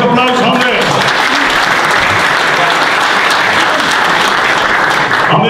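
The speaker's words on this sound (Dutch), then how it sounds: "Laten we een applaus, Amber." Loud, dense audience applause fills a hall at the Galgenwaard stadium, steady throughout, with a voice speaking over it at the start.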